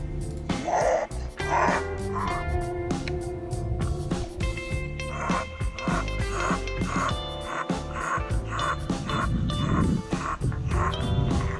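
A dog yips and barks repeatedly in short bursts, close by from the front of a kayak over water and paddling noise, with occasional whimpers between barks, on a forest creek.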